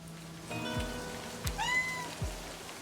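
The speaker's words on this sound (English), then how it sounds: "It's a cat!" A cat meows once in the video game Livber: Smoke and Mirrors, a short rising-falling cry over steady soft rain, with a few low thumps and a faint tonal backdrop.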